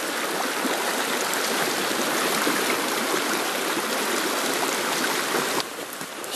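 Water pours steadily over an old trickle dam on a river, a continuous broadband rush of flowing water, close and loud, with no talk, easing slightly near the end.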